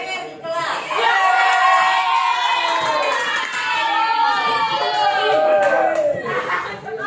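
Children in a classroom cheering and shouting together in a loud, sustained chorus of high voices that swells and dips; distinct clapping is not evident under the shouting.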